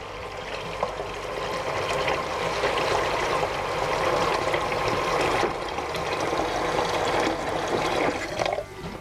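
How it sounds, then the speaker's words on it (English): Steady tap water pours into a cooking pot for a deer roast with carrots and potatoes, a continuous close rushing fill lasting throughout, no talking. "I'm gonna go ahead and fill the pot up about halfway"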